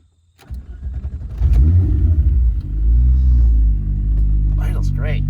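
The engine of a restored car starts and settles into a deep, loud rumbling idle that swells and holds steady, heard up close as a test drive begins, with a brief higher chirp near the end.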